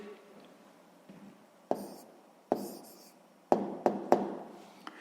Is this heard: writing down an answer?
yes